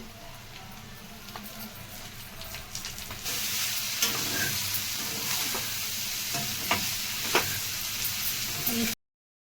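Chicken fry sizzles steadily in a pan. About a third of the way in, spring onions hit the pan and the hiss jumps louder and brighter, crackling with scattered pops until it cuts off abruptly.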